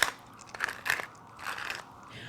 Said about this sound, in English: Then you're gonna crack a little pepper in there.